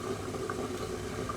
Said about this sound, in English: See, my water is now boiling because steam's coming up in front.